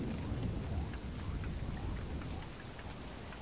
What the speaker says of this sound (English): Raining is the absolute worst.